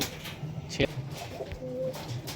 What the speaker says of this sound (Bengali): বন্ধ লেজের পায়রা, পুরো বন্ধ লেজ পায়রা